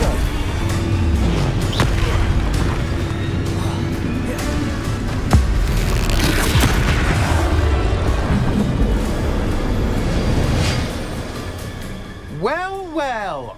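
Spell explosions from the Confringo curse and other combat spells go off in the video game Hogwarts Legacy. Repeated bangs and bursts sit in dense game noise, and a rising whistling effect comes near the end.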